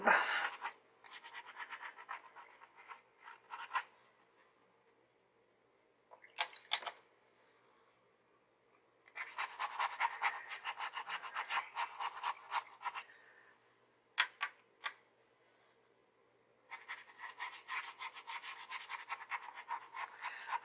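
A brush scrubs in repeated rhythmic bursts while paint is worked up on a cat-eye painting, close and fairly quiet, with short pauses between strokes and no talk.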